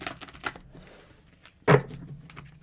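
Tarot cards are shuffled by hand, giving a few soft papery ticks followed by one sharp, crisp riffle snap, then quiet.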